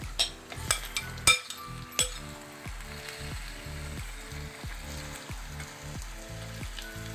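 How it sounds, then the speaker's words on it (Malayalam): Washed chicken pieces tipped into a pan of sautéed onions, a few sharp clinks and clatters at first, followed by a steady moderate sizzle with faint stirring scrapes. "കഴുകി വൃത്തിയാക്കി വെച്ച ചിക്കന് നമുക്ക് ഇങ്ങോട്ട് ഇട്ട് കൊടുക്കാം."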